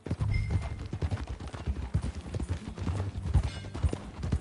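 Horse hooves clip-clop steadily at a riding pace in the Red Dead Redemption 2 video game, a continuous rhythmic clatter of close, moderately loud steps with no talking over it.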